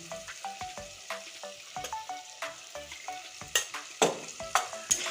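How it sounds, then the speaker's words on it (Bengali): Spice paste with turmeric is stir-fried in a pan: a spatula scrapes and taps in a quick, steady rhythm over a soft sizzle, close and fairly quiet, with no voices. "হলুদ দিয়ে আরও আমি কষিয়ে নেব সুন্দর করে"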